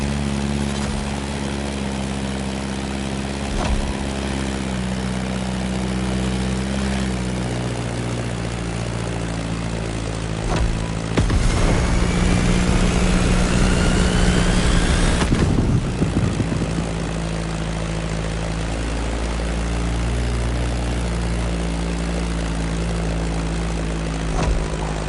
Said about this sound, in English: Beechcraft Stagger Wing is truly a beautiful piece, isn't it? And a great choice for that flight.